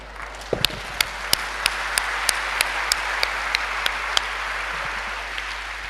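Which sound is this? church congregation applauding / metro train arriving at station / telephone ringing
church congregation applauding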